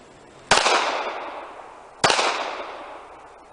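Two sharp, loud gunshots from a Smith & Wesson Bodyguard .380 pistol, evenly spaced about a second and a half apart, each followed by a short echoing decay with no talking.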